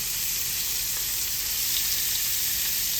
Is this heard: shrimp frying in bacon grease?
yes